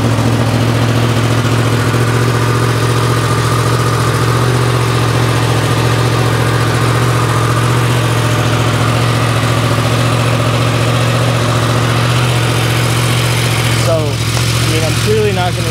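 A 2024 Yamaha R1 with an SC Project CRT exhaust idles steadily and loudly up close, a constant low rumble without revving, with a brief clatter near the end.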